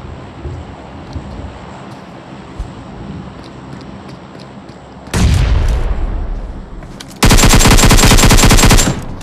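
A grenade blast and gunfire in a video game: a steady rumbling background gives way to a loud explosion, followed after a moment by a sustained burst of rapid automatic fire.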